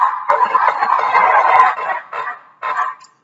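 String is pulled through damp cloth to imitate a chicken, giving a loud, raspy clucking squawk. A long drawn-out stretch is followed by two short bursts, heard alone and close up.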